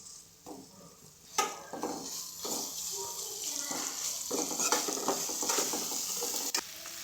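Mutton keema with turmeric and ginger paste being stirred in a pan, with a moderate sizzle and repeated scraping strokes of a spoon against the cookware, mostly without speech.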